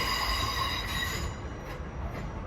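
A Class 700 Thameslink train bound for Kentish Town passes close by in south London, its wheels squealing in high sustained tones over a rumbling rush that fades toward the end.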